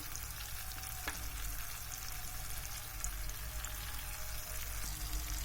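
Black Sea anchovies from Trabzon sizzle and crackle steadily in hot oil in a pan, a continuous close frying hiss with a couple of faint clinks.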